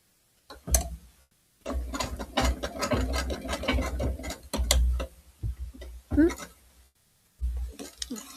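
A sewing machine stitching unfinished quilting projects runs in short mechanical bursts separated by brief pauses, fairly close and moderately loud.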